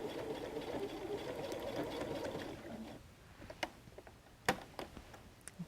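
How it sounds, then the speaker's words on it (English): A sewing machine runs steadily, back stitching a seam through a bulky messenger bag, with a dense whirring hum for about three seconds that stops before a few faint clicks and taps. "And then back stitch it when you get up to the registration mark."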